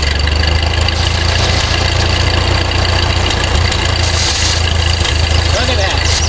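An old Ford tractor engine runs with the PTO engaged, a loud, steady, close idle with a constant low rumble and no change in pace.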